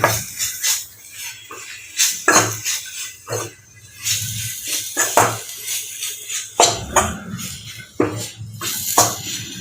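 A spoon repeatedly scrapes and knocks against a pan while potato masala for dosa is stirred with chopped coriander, loud close clatter in uneven bursts.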